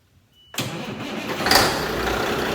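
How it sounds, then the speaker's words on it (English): A Blue Cobra vehicle fires up after a moment of quiet, the starter catching abruptly into a loud, rough engine roar that settles into a steady running drone, heard up close. "he's going to go ahead and fire it up. Go ahead, kick her over"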